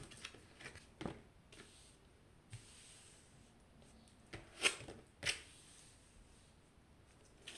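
Tarot cards being shuffled and drawn, a few soft flicks and light taps of cards, then two slightly sharper snaps near the end, quiet and close with long hushed gaps and no talking.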